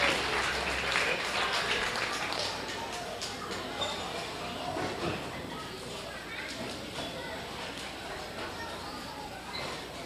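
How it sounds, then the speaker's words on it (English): Scattered applause from spectators at a county fair swine show, moderate clapping under a noisy show-ring background, with faint voices and animal sounds mixed in as it tapers off. "Let's give Olivia a nice round of applause."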